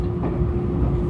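Meitetsu limited express train departing Toyohashi station, heard from inside as a steady low rumble of running gear with a constant hum, continuous and close.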